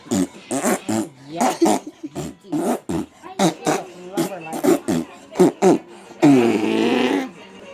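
A voice imitating fart noises in a quick series of short bursts, ending with one longer, louder raspberry-like blast, made with the mouth while improvising a song.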